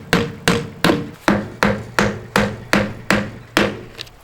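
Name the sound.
hammer tacking skirting panel onto mobile home wall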